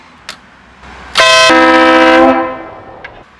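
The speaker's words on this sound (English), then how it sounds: "Let's test out this air horn." One long, blaring air horn blast on a project car sounds very close and loud for over a second, then fades, with a couple of faint clicks around it.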